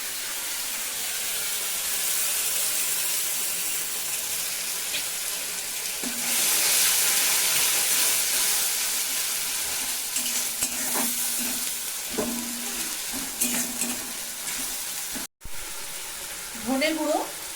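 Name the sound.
tomato paste frying in pan for Bengali rui fish kalia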